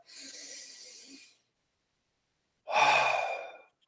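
Two deep breaths, a soft, long inhale followed after a pause by a stronger, breathy exhale, close and alone.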